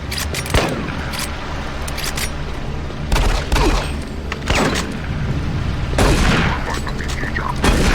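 Submachine gun fire in Doom 3 BFG Edition, the Mars City revisit, comes as loud, sharp repeated bursts and single cracks spaced across the stretch, over a constant low game-ambience rumble.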